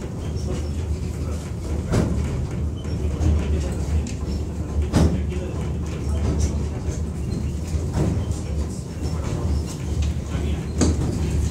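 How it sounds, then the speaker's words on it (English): A tram climbs a hill in Barcelona with a steady rolling rumble, and sharp clacks and thumps recur every few seconds throughout. "So we actually got a tram up this hill"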